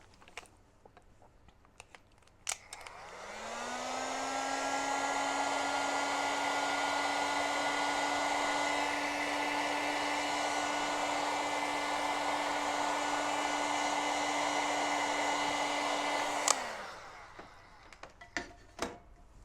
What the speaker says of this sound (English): Now I'm just going to get my heat gun.